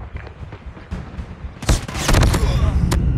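An automated sentry gun in Call of Duty Mobile multiplayer opens fire, loud rapid bursts breaking in partway through and running on amid other battle noise.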